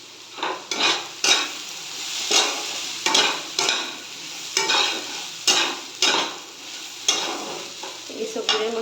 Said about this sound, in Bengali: তারপরে দেবো একটু ধনে গুঁড়ো, দিয়ে ভালো করে এটা ভেজে নেব।